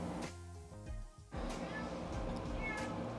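A pet cat meows indoors beside someone painting, with a couple of tonal meows near the start against a soft room background and a fainter later call.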